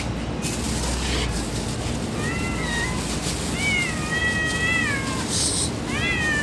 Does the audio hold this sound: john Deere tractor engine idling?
no